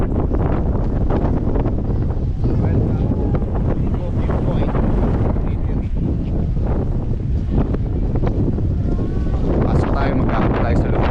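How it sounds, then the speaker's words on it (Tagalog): Strong wind buffets the microphone in a constant loud roar with gusty low rumble throughout, no clear voices, on a mountain road in Pangasinan, Philippines. "Grabe lakas ng hangin"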